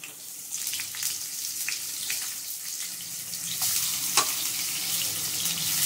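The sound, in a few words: pumpkin frying in mustard oil with nigella seeds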